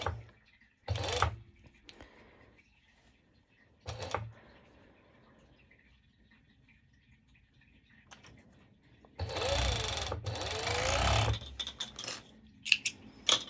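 A sewing machine stitches a mesh halter top in a few separate runs: two short bursts early on, then a longer, louder stretch of stitching near the end, with quiet handling noise between.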